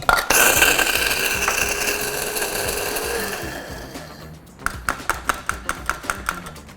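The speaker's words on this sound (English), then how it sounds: "So like to use a spice and coffee grinder for my spices." An electric spice and coffee grinder whirs loudly for a few seconds grinding spices, then winds down, followed by a string of quick rattling taps.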